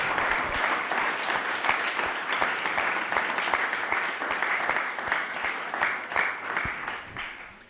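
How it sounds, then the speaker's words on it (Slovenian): Applause from an audience at a startup event, a sustained stretch of many hands clapping with distinct individual claps audible, steady for several seconds and then tapering off near the end. "Tako da en velik aplavz za vse vas."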